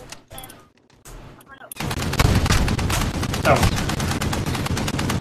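Dense, loud automatic gunfire erupts in Call of Duty Modern Warfare played on PC, following a quieter stretch of sparse shots, with players' voices speaking briefly near the start.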